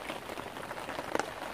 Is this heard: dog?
no